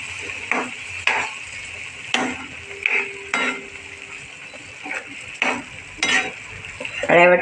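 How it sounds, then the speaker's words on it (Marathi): Cooked black peas are stirred in a hot spiced tempering, a spoon scraping the pan in repeated short strokes over a steady, quiet sizzle, with a sharper burst of frying at the end. "शिजलेले वाटाणे फोडणीला टाकणार आहे."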